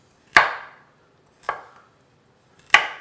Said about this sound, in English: you can see how nice it's shaving the carrots super thin. Let's chop them.